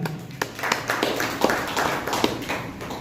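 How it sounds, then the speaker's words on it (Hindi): An indoor audience at a product presentation claps together: dense, steady, close applause that keeps going evenly throughout, with scattered sharper individual claps. "इसके लिए मैं चाहूंगा जोरदार तालियां।"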